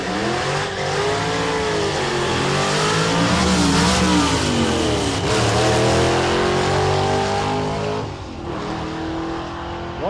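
A four-speed Chevrolet Nova launches down a drag strip at a hot rod event, its engine roaring loud and close and rising in pitch through several gear shifts, each marked by a brief drop before climbing again.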